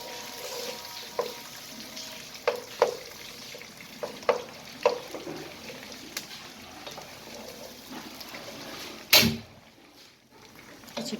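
Duck meat frying in a pan with a blended paste of ginger, garlic and onion, a low steady sizzle broken by several sharp clattering stirs and scrapes, ending in a loud clunk before the frying quiets.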